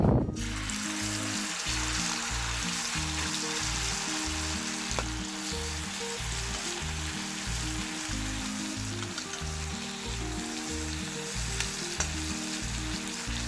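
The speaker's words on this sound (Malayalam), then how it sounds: "നമ്മളിത് വറുക്കുമ്പോൾ ഇങ്ങനെ പതഞ്ഞ് പോകും കേട്ടോ" Prawns frying in coconut oil give a loud, steady sizzle with bubbling and spitting throughout, interrupted by regular stirring scrapes in the pan; no one speaks.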